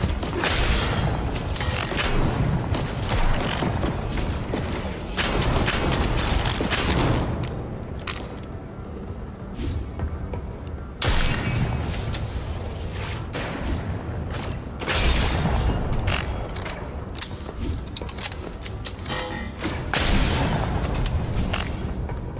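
Explosions and gunfire in a roguelite shooter game set on expert difficulty, with repeated loud booms and bursts of firing across the whole stretch, dense and continuous with brief lulls between heavy blasts.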